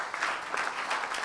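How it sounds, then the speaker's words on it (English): A church congregation claps together during a service, a short burst of steady, moderately loud hand clapping from many people in the room. "Can we clap for Jesus?"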